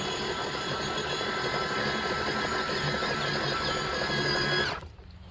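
An EGO 56v Select Cut XP self-propelled lawn mower runs at its fastest 3.1 mph drive speed, giving a steady, loud, close whirring electric drone that cuts off abruptly near the end.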